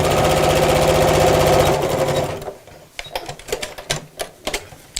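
A domestic sewing machine stitching a bag lining through thick fabric, running with a steady, fast mechanical whir for about two seconds before stopping, followed by scattered clicks and handling knocks.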